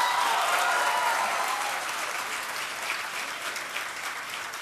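Convocation audience applauds graduates in a large hall, a full, continuous roar of many hands clapping that stays strong and slowly eases, with no one speaking.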